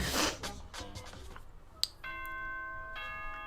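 A multi-tone announcement chime from the Danganronpa video game rings out alone after a short burst of game music, its sustained notes layered and steady.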